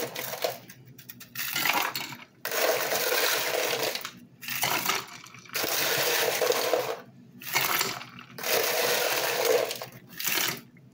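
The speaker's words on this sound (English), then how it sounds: "Now we're going to add as much ice as we want to have." Ice cubes added to a homemade iced mocha, heard as bursts of clattering and crunching ice spilling into a glass, four rattling pours separated by short pauses, fairly close and soft.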